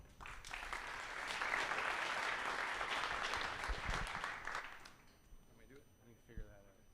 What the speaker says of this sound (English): Please join me in giving a massive round of applause for Solartility